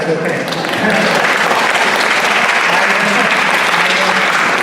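Applause from the audience at a town hall meeting, a dense wash of clapping that swells after a short dip and continues steadily, with talk faintly underneath.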